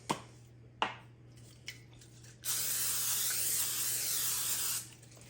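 Aerosol cooking spray hissing steadily onto a baking pan for about two seconds after a few light clicks and taps, close and fairly loud over a low hum.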